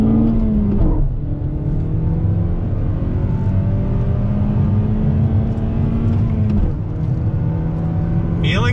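Engine of a 2021 Toyota Corolla Apex with a 6-speed manual revving hard on throttle, a loud, steady close-up drone that climbs in pitch, drops briefly around a gear change, then pulls up again.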